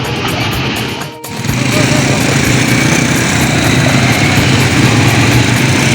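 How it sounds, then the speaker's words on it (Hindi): Quad bike engines run on desert dunes, a loud, steady buzzing drone that dips briefly near the start and then holds strong and close for the rest of the stretch. "इस तरीके से ये क्वाड बाइक चल रही हैं यहाँ पर रेगिस्तान में"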